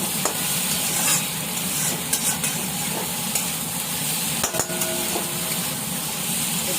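Spices and chillies fried in a pan and stirred steadily, a dense continuous sizzle with scraping spoon strokes and occasional clinks, close and fairly loud with no talking.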